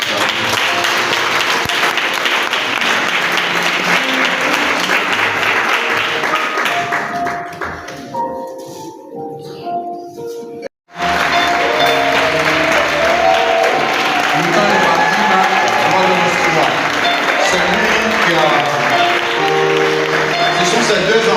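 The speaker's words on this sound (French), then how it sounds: "On peut applaudir le Seigneur." A church congregation claps together in sustained, even applause that nearly drops out partway, then resumes just as loud and steady, with an organ or keyboard playing along.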